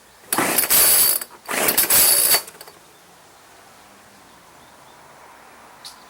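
Two hard pulls on the starter cord of a Homelite 23AV chainsaw, an 18-inch PowerStroke model, each a loud ratcheting rasp lasting about a second, followed by near silence with one faint click.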